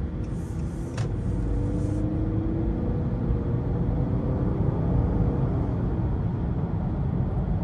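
A 2021 Honda Accord Touring Hybrid pulls away from a stop, its low, steady road and engine rumble heard from inside the cabin, smooth and constant with no distinct revving.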